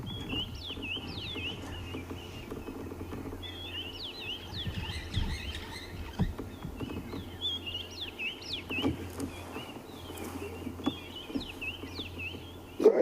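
Repeated high chirping bird calls ring out over a quiet outdoor safari background at sunrise, coming in short clustered bursts throughout.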